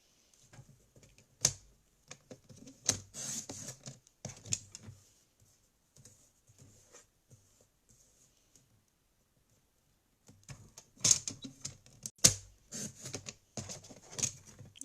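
Scissors snip diagonally through paper card for a pop-up card, giving short crisp clicks and rustles in two clusters separated by a quiet pause.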